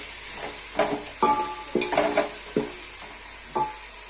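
Ladle scraping repeatedly through pulao ingredients with fresh coriander in a metal pot, a series of distinct clanks and scrapes spaced about half a second apart, close and fairly loud over a faint sizzle.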